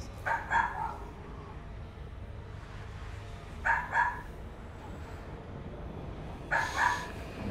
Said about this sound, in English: just give me a few seconds to see what I can do about the dog